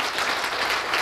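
Weak, scattered audience applause at a business lecture hall, a short, even patter of clapping with no voices over it.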